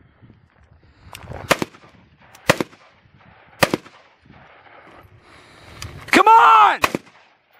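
Gunfire during a tactical run-and-gun course: several sharp, loud single shots spaced about a second apart, then a cluster of quick shots, with someone shouting between them.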